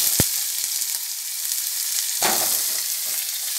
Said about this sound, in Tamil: கிரீன் சில்லி, ஆனியன், கறி லீஃப் மூணும் போட்டு நல்லா வதக்கணும்.